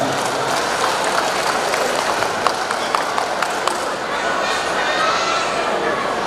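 A crowd at a community festival in Jabodetabek, Indonesia, claps steadily in dense, continuous applause for the organizing committee, with some voices mixed in, filling the whole stretch without pause.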